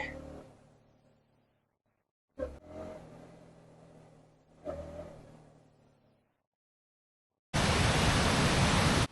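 Muregar Falls near Sirsi in Uttara Kannada during the monsoon gives a loud, steady roaring rush of water that starts abruptly in the final seconds, after earlier passages of motorcycle engine revving.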